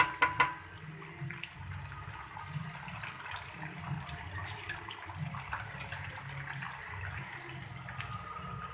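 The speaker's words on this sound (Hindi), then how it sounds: "पानी 2-3 गिलास पानी हम इसके अंदर डाल देंगे" Water poured into a cooking pot of beef nihari, a steady running, splashing stream throughout after a few sharp clinks at the start, close and fairly quiet.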